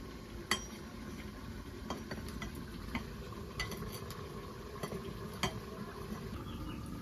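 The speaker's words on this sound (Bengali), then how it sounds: "আমি কিছুক্ষণ বাদে বাদে নেড়ে নিব, নিচে পুড়ে ধরছি।" Goat meat cooking with papaya in a pot is stirred, giving scattered scraping clinks of a spoon against the metal over a steady low sizzle, close and moderately loud, with no talking.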